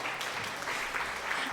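A short burst of crowd applause from a stream alert, dense steady clapping at moderate level with no talk over it.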